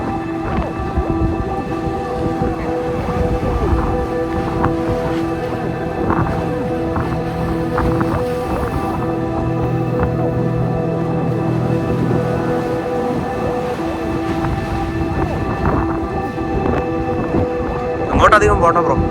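Strong wind roars steadily across the exposed sea cliff at Downpatrick Head, County Mayo, Ireland, a loud, continuous buffeting rush with low rumbling gusts that swell near the end, while a voice speaks intermittently.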